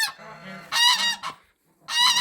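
Geese honk loudly in two bursts of harsh, nasal calls, with a brief quiet gap between them.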